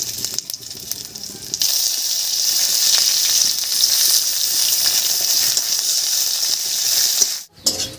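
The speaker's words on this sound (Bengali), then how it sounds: "দুটো তেজপাতা আর এক চামচ মতো পাঁচফোড়ন এর উপরে দেব কুচি করে কেটে রাখা পেঁয়াজ" Chopped onion frying in hot oil with bay leaves, dried red chilies and five-spice, a steady loud sizzle and hiss that swells after the first second and carries on without a break before cutting off near the end.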